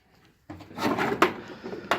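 Drawer of a metric tool storage cabinet in a home workshop sliding open and shut, with a wooden-sounding knock and rattle of tools inside, one firm thud near the middle and a second bump at the end, close and clear.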